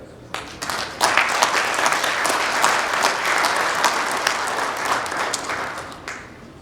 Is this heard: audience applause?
yes